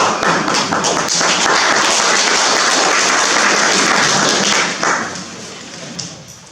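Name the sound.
applause from an audience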